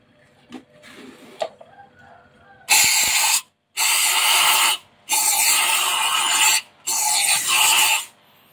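Aerosol cleaner hisses from a can onto the throttle body and intake of a Honda Vario 150 scooter in four loud, close bursts of about a second each, separated by short silences and preceded by a few faint clicks.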